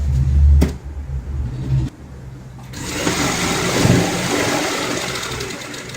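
A sewing machine stitches a designer cushion cover at home, a loud close mechanical whir for the first two seconds, then a softer, steadier running hum with motor noise.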